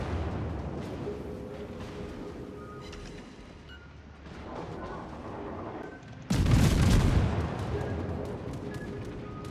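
Anti-aircraft gunfire in the naval video game World of Warships: dense rumbling volleys and rapid bursts layered over engine and sea noise, swelling into a loud, heavy barrage near the end.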